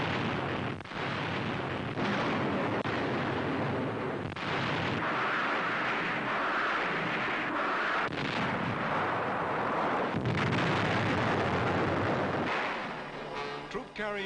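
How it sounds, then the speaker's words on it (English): Rocket fire pounding enemy cave defenses on a shore, a continuous loud roar of blasts and rumbling bursts throughout, with a narrator's voice running over it. "Rocket fire plows up enemy cave defenses on shore."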